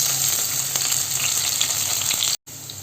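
Chopped ginger, garlic and green chili sizzle in hot sunflower oil, a loud, steady, close frying hiss with faint stirring ticks that cuts out briefly near the end, and no one speaks.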